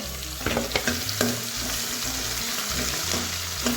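Dry red chillies and curry leaves frying in oil for Punjabi kadhi, a constant close sizzle with repeated stirring clicks and scrapes from a spoon in the pan.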